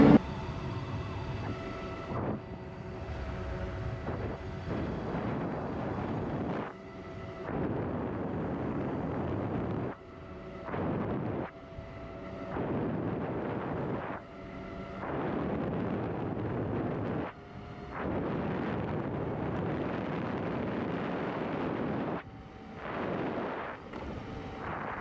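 Wind roars past during a motorcycle top speed run, loud and steady with a blustery rush, broken by brief dips every few seconds as the buffeting briefly drops.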